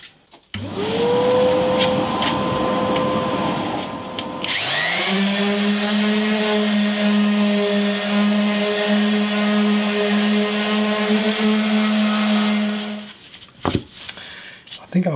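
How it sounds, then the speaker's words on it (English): A power sander whines steadily for about twelve seconds, its pitch jumping higher partway through before it cuts off. "let's sand this down a bit"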